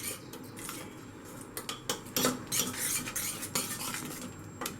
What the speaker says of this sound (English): Now give this a mix